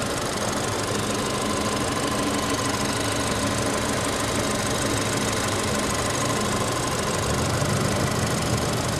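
A 2016 Ford Fusion SE's 1.5 EcoBoost inline four-cylinder engine idles under an open hood, giving a steady, dense ticking and humming drone, close and even throughout with no voices.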